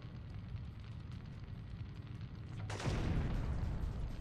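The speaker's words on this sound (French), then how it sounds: "On va s'amuser avec le lance-grenade." A grenade launcher fires in the PlayStation video game Syphon Filter, a single sudden blast that follows a low rumbling ambience and then rolls on as a sustained roar. It is moderately loud, with no talking.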